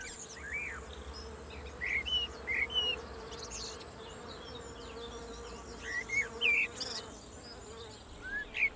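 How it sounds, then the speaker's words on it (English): Gall wasps emerging from rose gall nuts make a steady close insect buzz that rises and falls, with scattered high chirps over a low background hum. "When the weather gets warm, the fully developed wasps emerge from the pupal shell."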